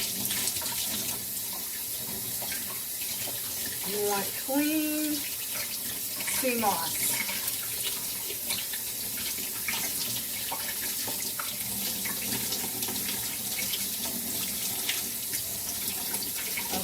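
Tap water runs continuously and evenly over sea moss being rinsed, with a person speaking briefly over it partway through.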